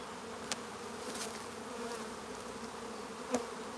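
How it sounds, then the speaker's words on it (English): Bees hum steadily around an open nuc colony during a hive transfer, a dense continuous buzz with a few brief louder passes close by. "Plenty of bees in this colony."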